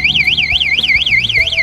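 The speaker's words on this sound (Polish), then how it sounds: "zmiana pozycji lub jakiekolwiek drganie powoduje to, że alarm się wzbudza" A shrill electronic bicycle alarm, triggered by movement or vibration, wails in a fast, rising-and-falling siren pattern, loud and close, continuous throughout with faint knocks beneath.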